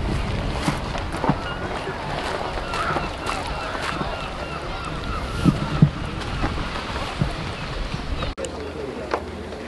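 A boat motoring across water at high tide in London, with wind buffeting the microphone and occasional splashes and knocks over a steady engine drone.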